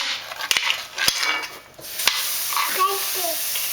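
Pancake batter beaten in a container, heard as scraping, clinking strokes with a few sharp knocks, fairly close, with no talking.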